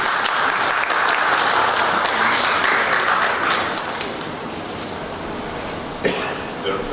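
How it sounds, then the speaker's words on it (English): Loud sustained applause from an audience greeting the guest of honor, Zambia's Minister of Tourism, at a formal event; dense clapping fades somewhat after a few seconds and continues at a lower level with a brief sharper burst near the end. "A round of applause, please."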